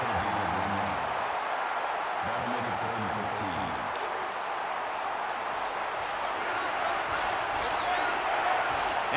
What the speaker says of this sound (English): this crowd is going absolutely crazy